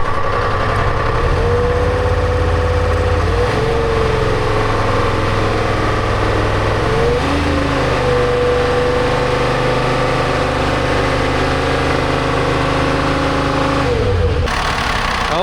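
A Detroit diesel engine in a telehandler runs loud and close, its steady rumble rising and falling as it is revved a few times before settling near the end.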